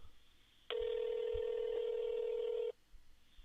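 A telephone call rings out with one loud, steady ringback tone lasting about two seconds, followed by near-silence.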